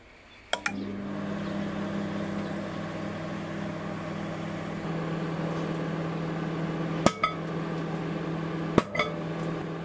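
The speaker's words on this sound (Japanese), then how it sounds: "先ほどと同じく電子レンジで1分間加熱します" A microwave oven heats ginkgo nuts in a paper bag: a steady low mechanical hum runs throughout, with a few sharp clicks and knocks early on and near the end.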